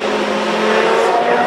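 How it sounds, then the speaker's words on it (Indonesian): A race car revs loudly in a continuous, high, buzzing engine whine, held steadily across a short burst with no voices over it. "ada mobil balap."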